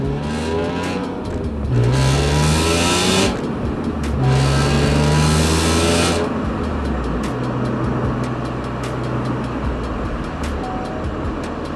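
Carbon black 2002 BMW M3 E46 with a manual gearbox revving loudly nearby, in two rising bursts followed by a steadier, lower engine drone and a few sharp clicks.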